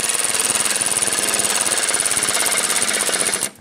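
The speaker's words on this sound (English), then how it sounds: "I'm gonna go ahead and tighten down our 10 millimeter bolts on each end." A power tool drives 10 millimeter bolts on a Dodge Ram 1500 front bumper, giving a loud, rapid, continuous hammering rattle that runs close and without pause for several seconds before cutting off.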